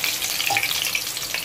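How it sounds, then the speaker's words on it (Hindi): Potatoes frying in fresh oil, a dense, bright bubbling sizzle with fine crackles, close and steady over a short stretch, with no talk. "फ्रेश ऑयल में बहुत ही जबरदस्त से पोटैटोज जो है वो हमारे फ्राई होते हैं"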